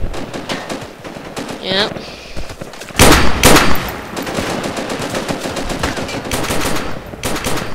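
Enemy gunfire in the Vietnam-era shooter game Project Reality Vietnam: loud bursts of automatic and single shots crack repeatedly, with a dense volley near the three-second mark, while players talk over the combat.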